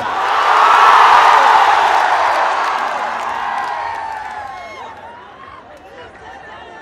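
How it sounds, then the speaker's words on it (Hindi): A large crowd at an election-rally stage show in Hyderabad cheers, whoops and claps loudly, swelling to a peak early and then slowly fading away. "कितना जोरदार ताली और हल्ला करके कि पूरा तेलंगाना हिल जाए"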